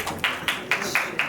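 Fashion show audience at Lakme Fashion Week 2026, heard as a steady series of five crisp, evenly spaced claps, close and moderately loud, no talk.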